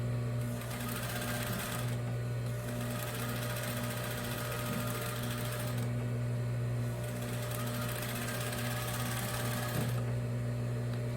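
A sewing machine runs steadily and close up while stitching a Christmas cushion, with a continuous motor hum and needle chatter in a few long stretches broken by brief dips.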